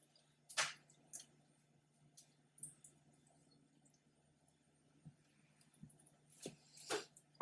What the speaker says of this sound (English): we're just going to kind of pat it dry